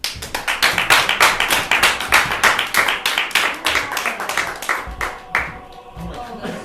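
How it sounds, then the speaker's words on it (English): A group claps in at an energetic workplace gathering as people come forward, with distinct, fairly close hand claps in an uneven rhythm that thin out toward the end, then a few voices. "Let's clap them in."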